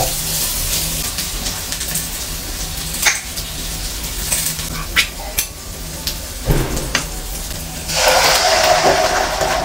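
Garlic and onion sautéing in a pan give a broad, steady sizzling hiss with occasional clinks and scrapes, and the frying swells louder near the end.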